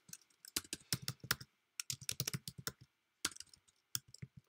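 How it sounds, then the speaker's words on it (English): Fast typing on a computer keyboard, dense runs of crisp close key clicks broken by short pauses, loud and clear with no talking. "my typing is so loud in this video"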